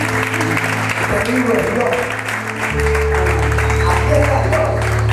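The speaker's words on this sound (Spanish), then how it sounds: "Dale un aplauso." Applause from a church congregation rises and swells under a preacher's loud Spanish voice, growing into sustained clapping in the second half.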